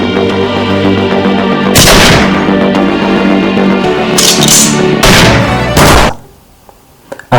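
Loud pistol gunshots in an action film scene: a sharp blast, then two more cracks close together a few seconds later, each with a rumbling tail, before an abrupt drop to near silence and one final shot.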